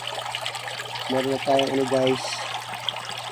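Water trickles and splashes through a strainer in a catfish fingerling tank, a steady close flow under a low hum, while a person speaks over it.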